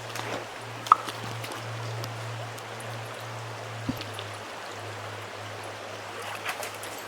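Cold water of Crawford Creek flowing, a continuous soft rushing wash with a low steady hum beneath and a couple of faint knocks, moderately close.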